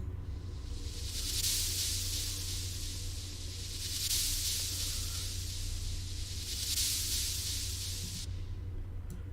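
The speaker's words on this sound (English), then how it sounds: "We also have some white noise that just sounds something like this." Swelling white-noise sweeps in a song track rise and fall three times in bright hissing waves over a low steady bed, the last wash cutting off abruptly.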